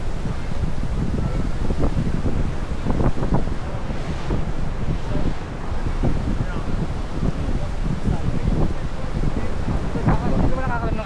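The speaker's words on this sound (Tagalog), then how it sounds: "Laki ng alon." Big sea waves wash and surge near a boat off Boracay, a constant roar blended with heavy wind buffeting the microphone, steady and loud throughout with faint voices underneath.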